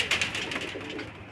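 A male black pigeon coos in a short run of soft, throaty calls, close and moderately loud over faint background noise.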